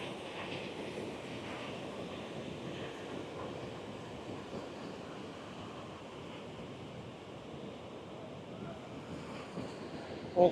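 Rushing water and drifting spray at Niagara Falls make a faint, steady, even roar that holds without a break from a distance.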